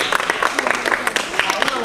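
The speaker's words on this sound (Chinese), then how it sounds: "我们掌声欢迎她" A small audience at a relaxed class breaks into quick, uneven clapping, close and lively, with a voice speaking over part of it.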